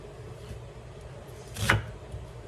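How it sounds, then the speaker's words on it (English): A single knife stroke dicing food on a cutting board, one close, crisp chop standing out against a quiet kitchen background. "I'm going to go ahead and keep dicing this up while my skillet is getting nice and hot"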